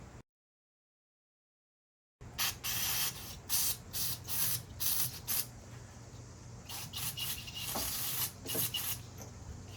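A nozzle sprays through a clogged fuel line inside the tunnel of a VW Beetle, after a brief silence, in a series of sharp, loud hissing bursts of varying length that later run closer together.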